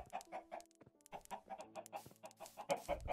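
Chickens in Minecraft cluck in short, repeated bursts, several birds overlapping at close range, with brief quiet gaps and no talking.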